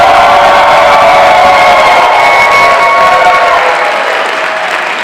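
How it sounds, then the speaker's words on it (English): Loud, dense audience applause mixed with cheering and whoops fills a Comic-Con panel hall at San Diego, sustained throughout and slowly easing toward the end. "Let's all give them a big round of applause."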